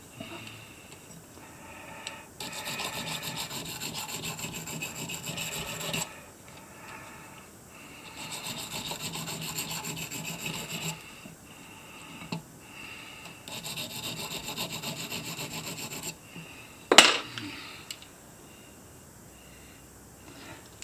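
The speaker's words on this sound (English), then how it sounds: "As I am sharpening, I'm turning the handpiece at the same time." Steady rasping of a fossil preparation air-scribe handpiece being sharpened while rotated against a stone, in three long even passes separated by pauses, close up, ending with a sharp click.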